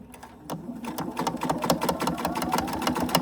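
A sewing machine top stitches a small fabric mini wallet, starting after a brief pause and then running in a fast, even stream of needle clicks and motor whir close up.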